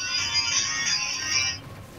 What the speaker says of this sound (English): That was my phone, I'm sorry.